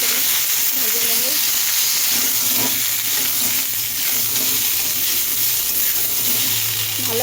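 Cauliflower, potato, carrot and fish curry vegetables fry in hot oil with salt and turmeric, giving a steady, loud sizzling hiss that continues throughout, with a faint voice and low kitchen hum underneath.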